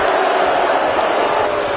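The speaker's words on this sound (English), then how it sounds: "I don't remember the last time I heard a more passionate crowd than the one we have here tonight." Roaring arena crowd in the wrestling video game WWE 2K19 at a pay-per-view event, a steady, loud wall of cheering that holds level without a break.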